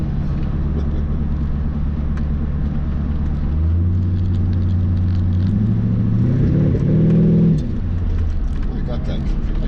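Car engine on a night drive, cruising with a steady rumble, then revving up with a rising whine before easing off, heard from inside the car with a person talking over it.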